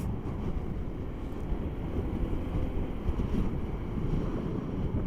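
Strong wind buffets the microphone in a constant low roar, with a faint wash like water or a boat engine underneath.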